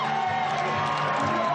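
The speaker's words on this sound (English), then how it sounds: "They're standing here and they're applauding a champion." Racecourse crowd at Royal Randwick applauding and cheering a champion mare, Winx, after her win: a dense, steady roar of clapping and shouts from a large grandstand, continuous and fairly loud throughout.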